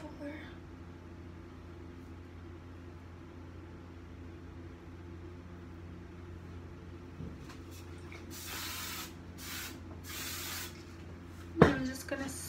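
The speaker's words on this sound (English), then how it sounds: "I'm just gonna spray." Hairspray hisses from a can onto hair in several short bursts near the end, over a low steady hum, followed by a sharp click.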